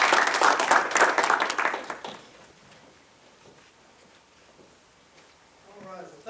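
Audience applause welcoming a judge at an evening pre-law society meeting, a dense burst of clapping for about two seconds that quickly thins and fades, with a voice starting to speak near the end.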